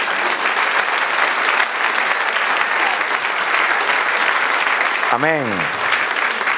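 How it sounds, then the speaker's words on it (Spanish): A church congregation claps loudly and continuously during a Spanish-language sermon, a thick, even wash of applause; near the end a single voice calls out briefly over the clapping. "Den un aplauso al Señor."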